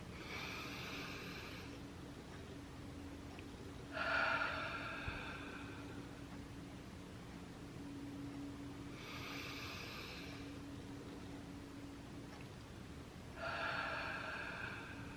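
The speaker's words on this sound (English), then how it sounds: "A little moment of silence for some box breathing." Slow, controlled box breathing: two long breath cycles with clear, airy inhales and exhales separated by held pauses, close to the microphone over a faint background hum.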